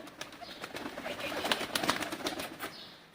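Pigeons coo softly while wings flap in quick, sharp bursts, the flutter growing busier mid-way before fading out, on a street.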